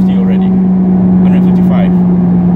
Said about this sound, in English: 4th gear acceleration. I'm up to 150 already.